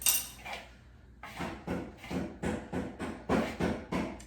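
Hands mixing dumpling dough of flour, salt and baking powder in a bowl, giving a steady run of about nine close, rhythmic slapping and squishing pulses roughly every half second, with a brief clink at the start.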